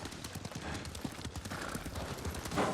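Horse hooves clip-clop in a quick, steady rhythm at a moderate distance, with a brief faint whinny near the end, in the video game Ghost of Tsushima.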